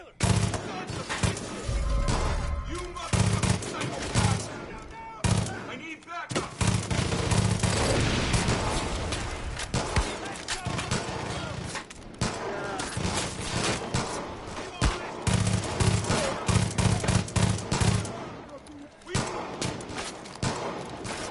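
Repeated gunfire in the shooter game Far Cry 5, loud volleys and rapid bursts that come and go across the stretch with short pauses, and a voice talking at times between shots.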